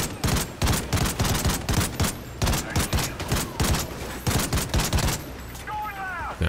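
Rapid gunfire from the video game Call of Duty Ghosts in a jungle level, with dense, loud bursts of shots repeating steadily and close, under a continuous battle din.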